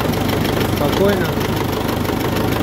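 An engine idles with an even, steady rumble throughout in freezing weather of minus 9 °C, close and loud, with no other sounds breaking through.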